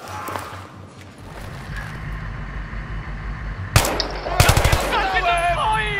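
Gunfire in Battlefield 3 breaks out as a sudden crack, then a rapid burst of closely spaced shots, loud and close, over a low rumbling game background with someone talking early on.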